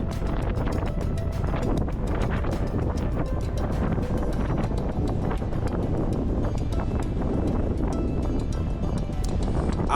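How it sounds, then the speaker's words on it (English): Passenger ferry from Split to Bol accelerating to about 30 knots, heard on the open outside deck: a steady, loud roar of wind buffeting the microphone over engine and water rush, unbroken for the whole stretch. "Once the ferry is clear of the port, it gradually increases its speed up to around 30 knots."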